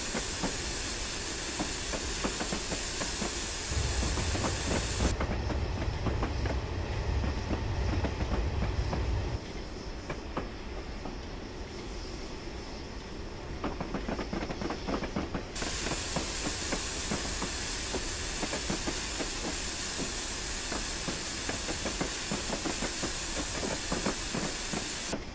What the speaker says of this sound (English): The safeties are going off like crazy.